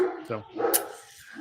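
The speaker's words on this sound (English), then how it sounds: "I apologize for my dog there in the background if you can hear." A dog barks a few sharp times, heard close behind someone speaking during a podcast recording.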